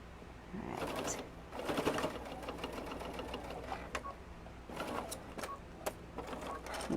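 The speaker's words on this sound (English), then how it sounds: "make sure don't sew over my pins. Keep my fabrics together." A sewing machine stitches together the layers of a puff quilt, its motor whirring in a steady, close, continuous run with a faint, slightly rattling mechanical rhythm and brief changes in pace.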